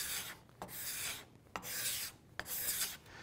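Card scraper pulled toward the user across a plywood surface, three long rasping strokes separated by brief sharp ticks as the blade lifts and resets, close and moderately loud with no talking.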